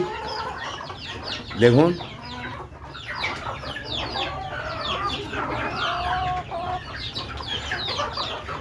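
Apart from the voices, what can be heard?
desi chickens clucking on a rooftop in rain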